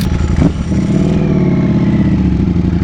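A Ducati Panigale V4 SP2 with a BT Moto stage 2 ECU flash idles loudly and close by, a brief rev surging at the start before settling into a steady, rumbling engine note.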